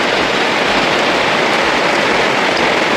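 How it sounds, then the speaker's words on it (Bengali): A steady, loud roar of heavy rain pours down without pause, a thick wash of noise with no voices. "বন্ধুরা বৃষ্টিটা জোরে এলো"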